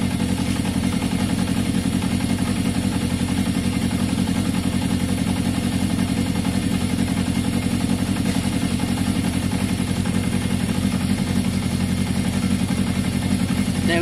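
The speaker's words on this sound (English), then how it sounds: "let's listen to the engine note, higher or lower." A Yamaha XJ550 motorcycle engine idles steadily during a spray test for air leaks with a fault being traced, a continuous close mechanical rumble with light clatter and no talking.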